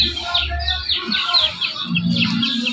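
A chick chirps rapidly and repeatedly while being caught in a zoo enclosure. The high, close peeps come in quick bursts over a low rumble of scuffling.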